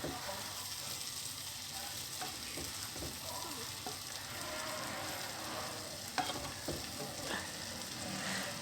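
Scampi browning on both sides in a hot pan, a close, steady sizzle and crackle with occasional sharper pops and faint utensil scrapes, no voices.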